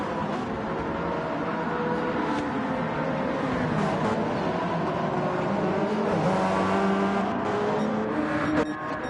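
Race cars in Gran Turismo 7 at Circuit de la Sarthe, including a Porsche 919 Hybrid, drone steadily with layered engine tones and shifting pitch, a continuous loud mass of motors without talk.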